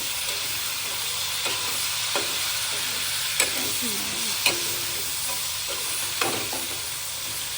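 Meat cooks with tomatoes in a hot pan, a steady loud sizzle and fry with scraping stirs and occasional clinks of the utensil against the pan.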